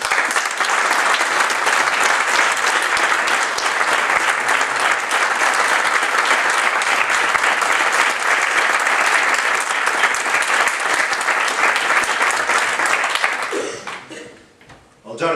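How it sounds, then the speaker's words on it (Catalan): A political campaign launch crowd in Esplugues breaks into a strong, sustained round of applause for Jordi, dense clapping filling the room for about thirteen seconds before fading quickly to quiet. "al qual demano un fort aplaudiment"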